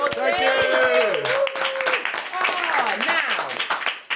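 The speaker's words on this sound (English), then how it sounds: "Give him another round of applause." An audience claps steadily for guest Asim Chaudhry at the close of a comedy show, with voices and tonal cheering rising over the dense applause throughout.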